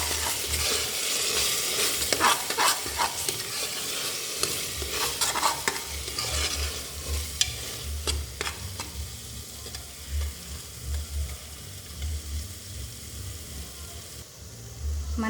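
Tomato pieces for tomato rice fry in a pan, giving a continuous sizzle under repeated stirring, scraping and clinking of a spoon that grow busier and then ease off toward the end.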